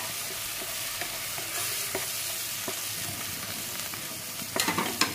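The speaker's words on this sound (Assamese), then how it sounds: "আৰু অকণমান ৰেড চিলি আৰু লগতে অকণমান মছলা মিট মছলা অকণমান ভাজি লওঁ" Red chili with meat masala and coriander powder frying in a pan for chicken with dates, a loud continuous sizzle broken by scraping stirs, with sharper clattering strokes near the end.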